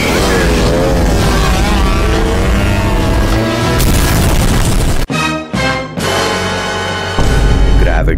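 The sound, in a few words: rocket launcher rocket explosion in an action film scene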